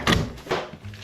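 A door shuts with a couple of dull thunks during a water test on a building damaged by rats and fungus, the impacts close and fairly loud with a brief rattle between them.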